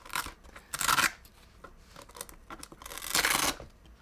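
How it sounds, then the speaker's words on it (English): Velcro strips are peeled apart while a guitar pedalboard is being built, giving two loud, rasping tears a few seconds apart with softer rustling in between. "Go three strips of Velcro to match the gaps here."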